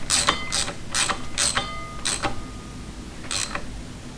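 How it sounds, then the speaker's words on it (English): A socket wrench ratchets on an 8mm nut of a vintage 1971-78 Honda CB motorcycle brake caliper, several short bursts of crisp metallic clicking up close. "that's an 8mm nut, so got my socket"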